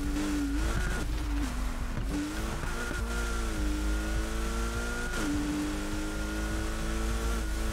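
A race car in a video game, running on drag tyres, holds a steady engine drone while its tyres squeal and skid through corners. The sound is loud and continuous, with no talk over it.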